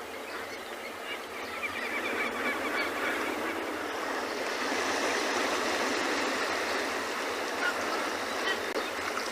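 A noisy chorus of braying, honking African penguin calls over steady rushing water, continuous and fairly loud throughout, in Cape Town.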